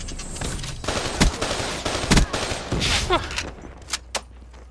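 Heavy Annihilator handgun fire in Call of Duty: Black Ops III multiplayer, loud sharp blasts spaced about a second apart over a busy game soundscape with a rising whine in the middle.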